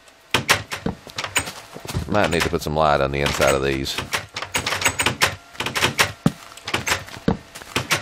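Wooden doors in the Minecraft video game clack open and shut in rapid, uneven succession as villagers pass through a boxy house. The knocks are close and sharp, and someone talks over part of them.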